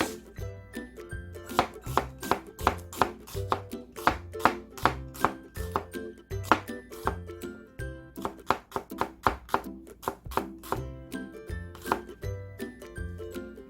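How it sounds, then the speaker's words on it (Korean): Quick, steady knife strokes chop rhythmically against a cutting board, close and crisp, as an onion is cut into very thin slices in a continuous run. "양파는 굉장히 얇게 썰어주세요."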